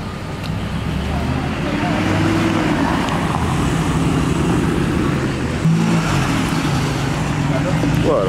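Latest-generation Porsche Turbo driving past on a street, a steady engine and tyre rush under ongoing traffic noise, with a brief louder swell near the end while people talk over it.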